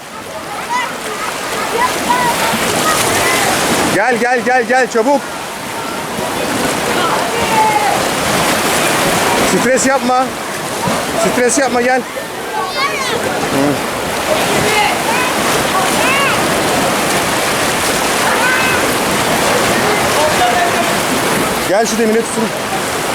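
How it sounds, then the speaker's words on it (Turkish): Rough sea surges at the foot of the Antalya cliffs, a loud continuous churning roar with brief dips, while a woman calls out urgently over the water. "Çok dalgalı çünkü bugün."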